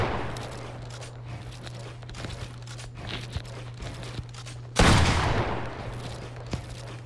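Rapid gunfire in Fortnite while shooting targets on an edit course, quiet scattered shots and then a loud burst of sustained automatic fire partway through, over a steady low game hum.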